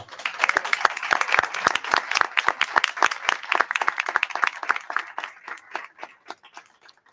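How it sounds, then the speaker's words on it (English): A room full of people at a school board meeting clapping steadily, loud at first and gradually thinning out toward the end. "So round of applause for this group."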